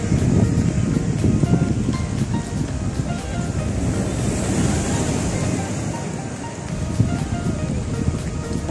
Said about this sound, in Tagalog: Lupit ng alon.